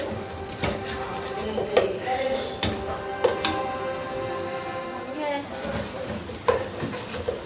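Garlic-ginger paste sizzles and crackles steadily in a hot pan for chicken and chickpea curry, with scraping stirs and occasional louder pops, close by and continuous.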